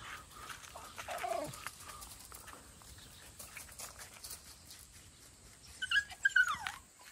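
A dog whimpers in two short, high-pitched bursts, one early and one near the end, with quiet background between.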